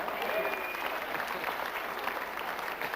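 A studio audience applauds in a dense, steady wash of clapping, moderately loud, with faint crowd murmur underneath and no clear speech.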